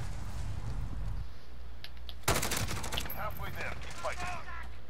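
Gunfire in Call of Duty: Modern Warfare erupts as one loud sharp burst followed by a rapid spray of shots, set against a steady low game rumble.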